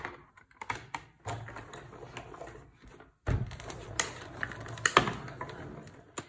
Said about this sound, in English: So I'm going to die cut these out next.